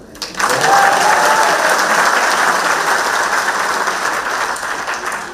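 Audience in a business meeting hall breaking into loud, sustained applause, a dense wash of many hands clapping that fades slightly toward the end, with no talk over it.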